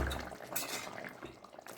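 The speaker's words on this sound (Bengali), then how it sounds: "দেখো কতটা সুন্দর হয়েছে রান্নাটা, টকবক করে ফুটছে" A fish and potato curry boiling in a pan gives soft, wet, irregular bubbling and popping, close and fairly quiet, continuing steadily throughout.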